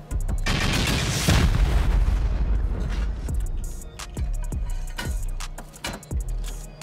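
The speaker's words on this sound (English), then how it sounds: "I think we're safe to go ahead and rocket into this room and destroy these vending machines" Rocket explosions tearing into a base during a raid in the video game Rust: one big heavy blast followed by a string of sharper booms and bangs, loud and close.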